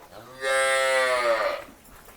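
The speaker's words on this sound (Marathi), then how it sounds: "ही आपल्या फार्मरची 3 नंबरची गाय एकदम टॉप क्वालिटीमध्ये गिर गाय आहे" A Gir cow gives a single close, loud moo lasting about a second, with no other sound around it.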